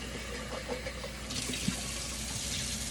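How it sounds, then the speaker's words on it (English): Cold water from a tap splashes over homemade butter to rinse out the milk, a steady low rush with a brighter gush joining midway and faint handling noises. "I'm rinsing the milk out of it, y'all. See, on cold water."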